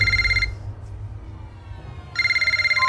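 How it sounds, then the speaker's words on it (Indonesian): A telephone rings in a scene from the 2022 horror film Scream, with loud electronic ring bursts at the start and again at the end and a quieter gap between them over a low rumbling background. "Tak lama terdengar telepon memanggil."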